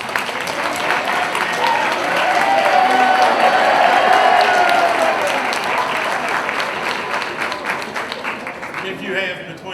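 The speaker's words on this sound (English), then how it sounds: "to a small round of applause" Staff seated at a school division convocation give a steady round of applause lasting about ten seconds, moderately loud and dense, with scattered voices mixed in before it thins toward the end.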